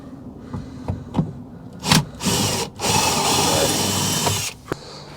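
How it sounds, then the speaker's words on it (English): A power drill drilling a hole in a wall whirs in short bursts, then runs in a sustained loud whine for a couple of seconds before stopping, with clicks and handling noise around it. "Hold the black thing tight, hit the trigger. There you go. Now drill the hole."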